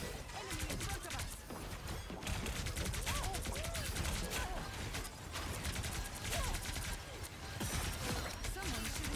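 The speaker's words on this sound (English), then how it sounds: "Someone shooting from afar." Dense, crackling video-game gunfire rattles on continuously from a distance, with rapid overlapping shots under game voices and speech.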